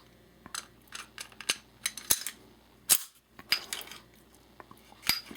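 A guide rod assembly is seated into the slide of a Dawson Precision STI Limited pistol, producing a string of sharp, close metallic clicks and clacks at irregular intervals, with no talking.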